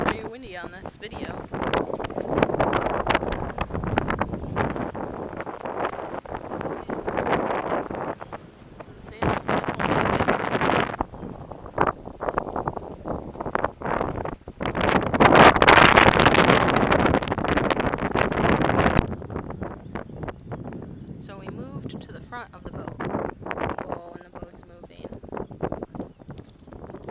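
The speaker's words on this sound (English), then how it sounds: "Pretty windy on this video." Heavy wind buffets the microphone in loud, uneven gusts on a sailboat, with voices talking faintly underneath and a particularly strong blast partway through.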